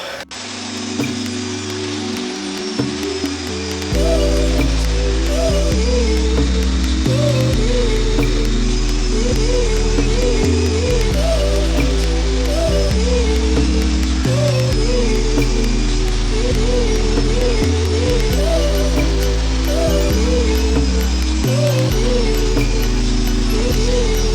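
A saw cuts wood segments for a Mayan Steps segmented bowl: a loud, steady machine drone running throughout, with repeated surges as each segment is cut and no talking.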